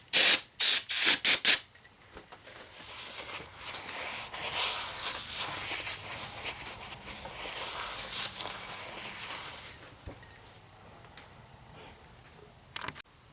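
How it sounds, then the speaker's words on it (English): Brake cleaner sprays onto a car clutch pressure plate in a long, close, hissing burst lasting several seconds, preceded by sharp handling clicks and followed by quieter rubbing and small knocks in a workshop. "I'll just clean it with a clean towel and some brake cleaner."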